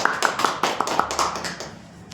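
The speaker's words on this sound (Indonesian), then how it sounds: "silakan berikan tepuk tangan lagi" A small classroom group claps during a physics microteaching lesson, about ten quick distinct claps in a steady rhythm that thin out and fade by the end.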